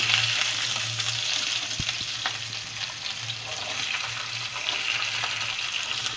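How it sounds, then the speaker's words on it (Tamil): Small onions frying in melted ghee for chicken ghee roast, a dense steady sizzle held close and even throughout, with one faint knock midway and no voices. "வெங்காயம் நல்லா வதங்கட்டும்."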